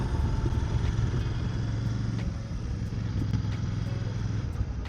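Royal Enfield Bear 650 motorcycle leaning through corners on a forest road, a steady close engine drone with rushing wind noise and slight shifts in pitch.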